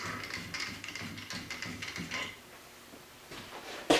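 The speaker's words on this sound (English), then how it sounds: "simply turn the wrench to adjust the unit out" Ratcheting wrench turned to lengthen a Bump Buster Gold adjustable unit, giving a run of quick, close mechanical clicks in short bursts, then a pause and a final sharper clack.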